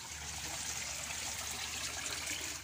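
Floodwater from Typhoon Paeng in Zamboanga City flows in a steady, broad rush, a continuous watery hiss with no voices over it.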